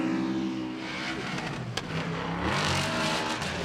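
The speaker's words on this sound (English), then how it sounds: "Vaughn Gittin Jr. initiating here. Let's see how he handles it. This only Ford Mustang" A Ford Mustang drift car at a Formula Drift event roars continuously, its engine revving and rising in pitch as it drives, with tire noise mixed in and no talk.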